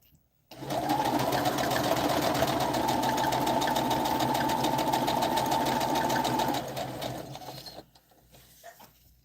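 A sewing machine stitches fabric in one close, continuous run of fast, rhythmic mechanical clatter lasting about six seconds, then slows and stops into near quiet.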